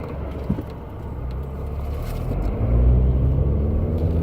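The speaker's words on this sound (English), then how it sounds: "Alright, we got a trash truck here." A garbage truck rumbles past from close range, its heavy engine drone building steadily louder toward the end of the pass.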